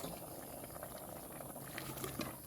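A pot of Thai frog curry, aom kob, with vegetables, bubbles at a low rolling boil, faint and steady with soft gurgles.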